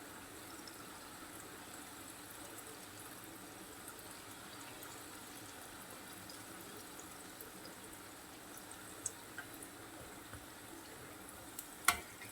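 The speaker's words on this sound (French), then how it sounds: "Je vais cuire les bugnes." Bugnes, soft dough fritters flavoured with orange flower water and cardamom, frying in hot oil give a steady, moderately quiet bubbling hiss throughout, with a couple of brief sharper pops near the end and no talking.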